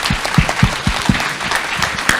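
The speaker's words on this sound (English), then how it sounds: "Please join me in a round of applause" Close, loud applause from an audience at a physics meeting on detector systems and future accelerators, with irregular heavy claps over a steady bed of clapping.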